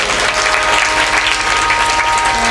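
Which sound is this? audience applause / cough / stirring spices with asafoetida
audience applause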